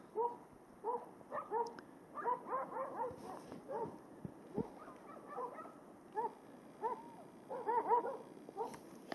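Hunting dog baying and yelping during a wild boar hunt in Ordu, repeated bursts of barks and whimpers at a moderate distance outdoors, with pauses between volleys.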